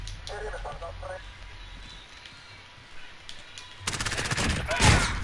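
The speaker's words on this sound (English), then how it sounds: "That's a shotgun." A shotgun blasts in a VR Call of Duty game, a loud burst of close gunfire late in the moment following quieter game ambience with faint chirping sounds.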